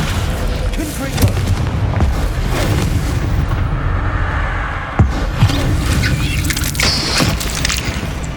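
Heavy booms and crackling blasts from the Confringo spell in Hogwarts Legacy ripple through a dense, rumbling game soundscape, with a sharper hit near the middle and voices partly overlapping.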